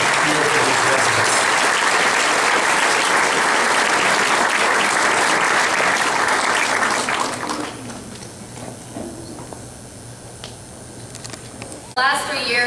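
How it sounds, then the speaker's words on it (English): Loud, dense applause from the audience at a medical residency graduation ceremony fills the room for about seven seconds, then drops away to quieter room sound with a few scattered claps and a brief burst near the end. "I'd like to give each and every one of you a round of applause in here for being here for these residents"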